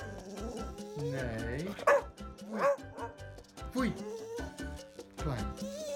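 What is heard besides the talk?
English Cocker Spaniel dog barking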